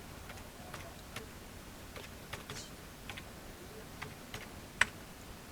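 Typing on a computer keyboard during accounting data entry in Tally Prime, scattered light key clicks at an uneven pace with one sharper keystroke near the end, close and fairly quiet.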